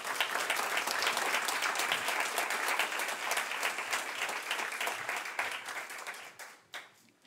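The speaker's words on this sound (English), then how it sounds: "I'd like for us to give her another round of applause" Applause from the audience at a district town hall meeting on an ethylene oxide issue, a steady dense wash of clapping that holds for several seconds, then thins and tapers off near the end.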